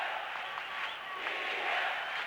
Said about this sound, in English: with that goal by Nada, the crowd comes alive